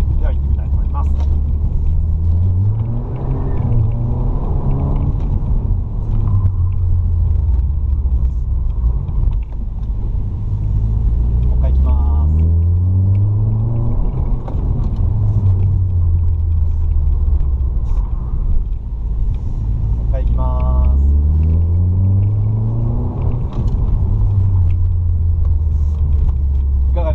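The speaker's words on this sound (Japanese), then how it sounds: "ちょっとオーバーステアを出してみたいと思います。" A Suzuki Swift drives hard to provoke oversteer, its engine droning and rising and falling in repeated sweeping revs through the whole stretch, loud and close from inside the car, with some mechanical creaks.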